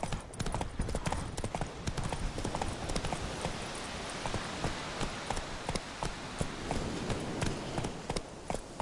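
Roach, the horse in Witcher 3: Wild Hunt, galloping with a fast, steady clatter of hooves close by, continuing without a break through the whole stretch over a low background bed.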